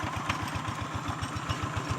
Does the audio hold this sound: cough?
no